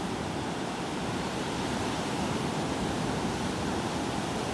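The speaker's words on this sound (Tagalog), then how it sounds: "Malalaki kasi ang alon, guys." Big ocean waves break at Phuket beach in a dense, steady roar of surf that fills the air close up, with no pauses or voices audible above it.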